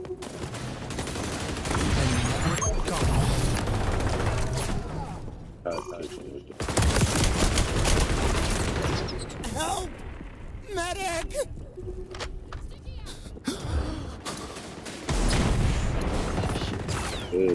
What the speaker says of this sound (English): I'm using this A12 shotgun.